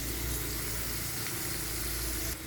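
Bamboo shoots (labong) sautéing in a pan, a steady dense sizzle with a constant low hum underneath, no voices.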